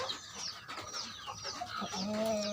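Chicken clucking with a chick nearby, short close clucks and squawks mixed with higher cheeping calls over steady background noise, no talk.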